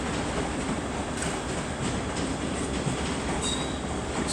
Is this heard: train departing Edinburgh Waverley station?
yes